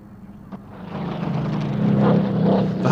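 A Hawker Hurricane and a Supermarine Spitfire flying at an RAF Fairford airshow, the propeller engine drone swelling from a distance to a loud, close roar over about three seconds.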